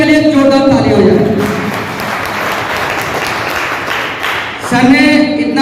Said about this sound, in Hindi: शशि मोहन सर के लिए जोरदार ताली हो जाए।